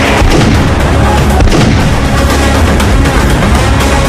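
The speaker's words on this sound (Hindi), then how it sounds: "एक के बाद एक ताबड़तोड़ गोलियां चली" Loud, dense bursts of gunfire crackle and boom continuously, one shot after another, harsh and close, with no clear speech, during a police encounter at a building in Kolkata.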